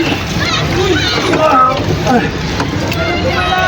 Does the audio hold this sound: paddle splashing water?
yes